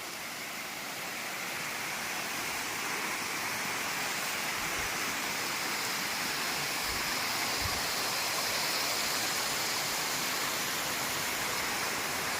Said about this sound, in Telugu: చూడండి, స్టెప్ బై స్టెప్ అలా వాటర్ దిగుతున్నాయి కిందకి.